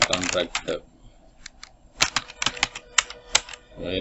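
Keys clatter on a computer keyboard while lettering is entered for an electrical works visiting card, the clicks arriving in short irregular bursts and isolated taps, with a voice talking at the start and end.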